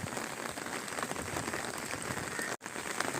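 Steady rain falls continuously as a dense, even hiss of drops on surfaces outdoors, close and moderately loud, with a brief dropout near the end.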